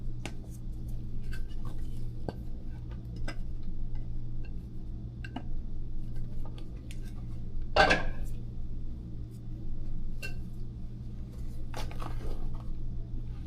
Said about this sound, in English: We're going to fold it in with this spatula.